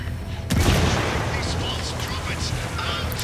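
A grenade blast and bursts of gunfire in a Ghost Recon Wildlands firefight, a sharp boom erupting after a quiet moment and dense shooting rolling on behind it, loud and close throughout.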